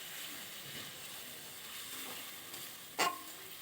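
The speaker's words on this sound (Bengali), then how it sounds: "সামান্য জল দিয়ে দিলাম," Egg curry masala in a pan sizzling and hissing steadily, with a sharp loud burst of sizzle near the end as a little water is poured in, no talk.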